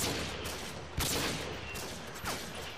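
Sniper rifle gunfire in Modern Warfare 2, several sharp separate shots spaced apart, one especially loud crack near the middle, over a constant noisy game background.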